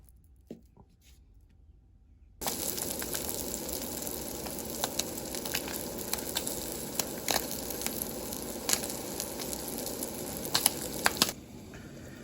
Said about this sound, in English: While the Spam is browning